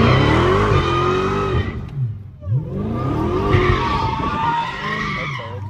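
A Dodge Hellcat slides with its tires skidding, giving a loud, close screech under a roaring engine that briefly drops off before a second long skid with rising revs.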